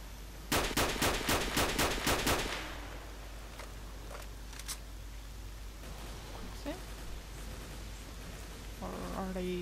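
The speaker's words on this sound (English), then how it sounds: "Are they shooting the mutants now?" Gunfire in the video game S.T.A.L.K.E.R. rings out as a rapid burst of about eight sharp shots, followed by a few scattered distant pops over rain-like ambient noise.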